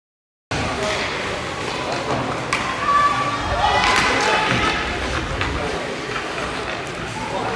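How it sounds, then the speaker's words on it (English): A crowd at a youth squirt hockey game stirs up in a noisy rink, a steady roar of voices with scattered thuds and bangs. "The crowd here getting a little bit worked up"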